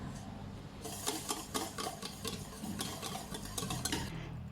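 Olive oil is whisked into keto mayonnaise at a table, a quick run of close, quiet scraping and tapping strokes against a bowl in uneven bursts, with no voice heard.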